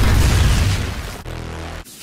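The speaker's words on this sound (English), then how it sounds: "Flamethrowers! Boom cannons!" Boom cannons in the Boom Beach mobile game fire in loud, heavy explosive blasts, a dense booming roar followed by a sustained low rumble that cuts off abruptly.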